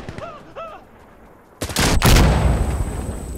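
Gunfire in the tactical shooter Insurgency Sandstorm: after a quiet stretch with brief calls, loud close rapid shots burst in and continue as a dense, echoing volley.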